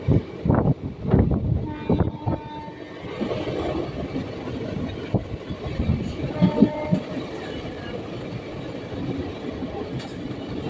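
A passenger train on the Katwa to Ahmadpur line rolls along with rhythmic wheel clatter and rattling carriages, heavy thumps early then a steadier rumble, recorded from on board.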